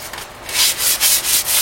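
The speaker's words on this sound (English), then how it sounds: "we're just going to sand them down" Rhythmic sanding of a brake shoe, several quick abrasive strokes back and forth, close and fairly loud with no talking.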